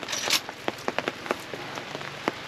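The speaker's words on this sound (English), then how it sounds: "To state the obvious, it is still raining like crazy." Heavy rain pouring during a long-range shooting outing in Norway, a steady hiss with many distinct close drips and patters striking a surface.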